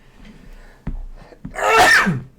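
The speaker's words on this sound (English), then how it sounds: "Wow, that was a sneeze." A single loud, explosive sneeze bursts out after a couple of soft clicks and breaths, close to the listener.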